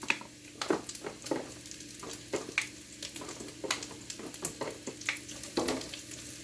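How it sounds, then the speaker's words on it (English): Mushrooms added to a pan with crispy bacon sizzle steadily up close, broken by repeated scraping and clattering stirs of a utensil against the pan. "I'm going to add my mushrooms in here."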